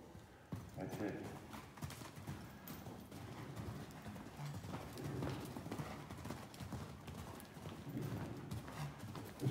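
A horse walks in a circle, its hooves giving a steady clip-clop on the ground at moderate distance, with a person talking over the footfalls throughout.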